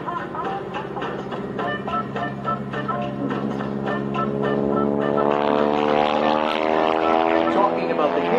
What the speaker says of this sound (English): as we swing right into yesteryear from the now time with Nikki Benzing and her steerman biplane